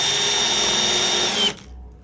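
A drill press bores a countersink hole, its steady high motor whine running loud and close before spinning down abruptly near the end, no talking.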